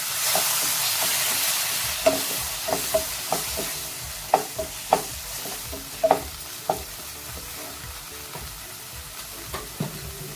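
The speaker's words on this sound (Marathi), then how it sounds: "मिक्सरच्या भांड्यामध्ये थोडस गरम पाणी घालायचं आहे आता कांद्याला चिटकलेला मसाला सगळं धुवून फोडणीमध्ये ओतायचं आहे" Masala water from a mixer jar is poured into a hot onion tempering for a drumstick curry, setting off a steady sizzle with sharp bubbling pops and stirring clicks scattered throughout, close and fairly quiet.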